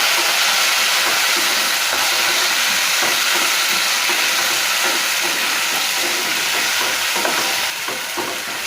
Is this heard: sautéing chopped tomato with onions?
yes